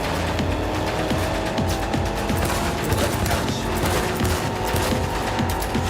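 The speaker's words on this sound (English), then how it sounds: "Shoot the shit out of the car." Rapid, dense gunfire pours into a car in the video game Cyberpunk 2077, a loud, continuous clatter of shots with engine noise and impacts blended in.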